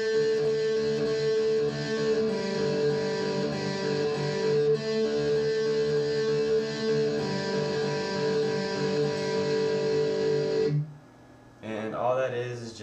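Electric guitar playing the pre-chorus of a song, sustained ringing chords with a steady tone for about eleven seconds before cutting off, followed by a brief trailing sound.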